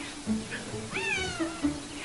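A cat meows several times up close, short rising and falling cries with one longer drawn-out meow in the middle.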